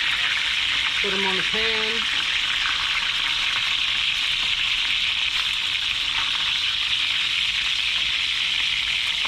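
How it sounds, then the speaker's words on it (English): White perch fish frying in hot peanut oil, a steady broadband sizzle that runs the whole time, with a brief voice speaking early on over it. "this first round of fish is about done. I'm gonna pull them out of the oil"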